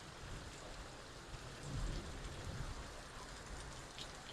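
Heavy rain pours over a flooded colony in Kasur, a dense, steady roar of drops that swells slightly in the middle, heard alone without voices.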